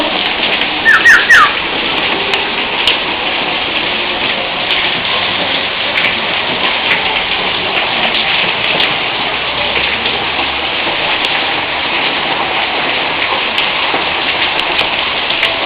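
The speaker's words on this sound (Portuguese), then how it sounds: "Chuva em Rondônia." Heavy tropical rain pours down in Rondônia, a loud and steady dense hiss of drops on the street and surfaces, with a few faint bird chirps early on and no talk.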